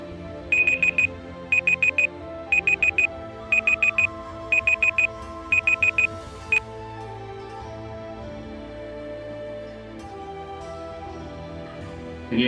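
A Google Search voice timer alarm rings in six quick bursts of repeated high beeps, evenly spaced, then a single short beep, clear and alone with no talk.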